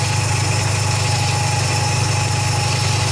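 A Mazda RX-7 FC rotary engine idles steadily just after an oil cooler line install, a loud, even, close drone with a low pulsing hum and no voices.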